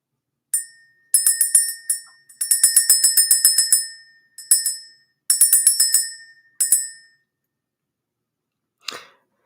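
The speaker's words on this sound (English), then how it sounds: "Let's ring the bell." A small bell rings in several quick bursts of bright, repeated metallic dings, struck in an irregular rhythm with short pauses between runs, close and clear against silence, ending with one soft rustle.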